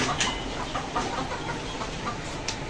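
Farm chickens cluck on a dairy cattle farm, a dense, continuous chorus of short clucks over a constant noisy background with no talking.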